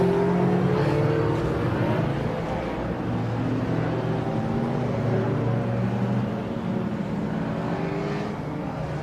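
Classic touring race cars pull away together at Brands Hatch GP circuit, a dense layered roar of several engines droning and revving steadily at moderate distance throughout.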